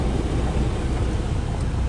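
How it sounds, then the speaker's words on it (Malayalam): Heavy rain on a trek to Chimmini in Kerala, a dense, loud, continuous roar of downpour with no voices and no distinct drops standing out. "നല്ല മഴയാണ്"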